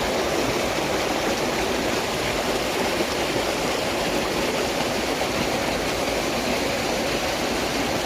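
Water flows steadily along a canal, a constant broadband rushing that stays loud and unbroken from start to finish.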